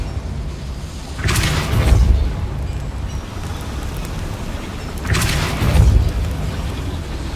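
Two heavy, booming blasts from the Confringo spell in the video game Hogwarts Legacy, set in a mine, each a deep rumbling burst about four seconds apart over a steady low background.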